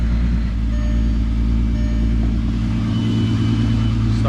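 A Volkswagen VR6 car engine runs loud and close with a steady low rumble that holds evenly throughout, with no distinct start-up moment.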